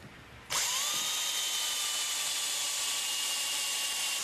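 A power drill bores a mortise into a rustic chair post. It starts abruptly and holds a loud, steady high whine with no talk over it.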